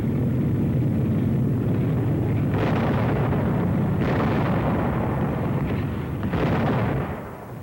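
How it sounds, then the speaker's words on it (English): Artillery guns firing in a WWII-era army newsreel, with heavy booming blasts repeating every second or two over a dense, continuous rumble of battle noise and no voices. "They're running artillery."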